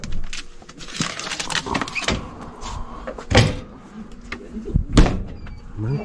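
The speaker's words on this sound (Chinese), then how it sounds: "门关上了" A camper van door is pulled shut with a few solid thuds and clunks among rattling and handling noises, close by and fairly loud.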